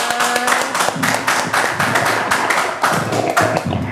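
Junior high school students at SMP Negeri 2 Satu Atap Sipan clap for their classmates, a close, loud round of hand claps with an uneven rhythm and distinct individual slaps that swells and fades in waves.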